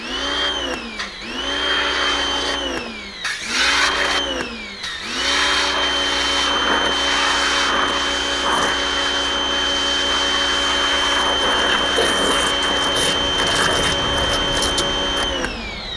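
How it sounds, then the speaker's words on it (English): A pressure washer runs loud and close with a steady motor whine, cutting in and out a few times early on, then holding continuously while spray hisses beneath. "Grab my pressure washer here."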